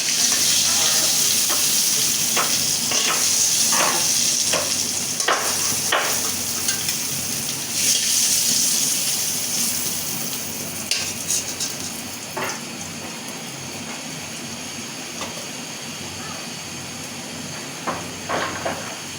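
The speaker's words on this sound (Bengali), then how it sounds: "পটল ভাজি আমার হয়ে গেল লাল লাল করে ভাজি করে নিলাম" Pointed gourd (potol) frying in oil alongside hilsa fish, a steady close sizzle with scattered sharp spatters and pops that gradually softens and thins toward the end.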